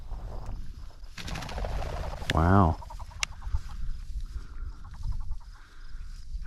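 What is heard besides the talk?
game bird flushing from the field in front of a puppy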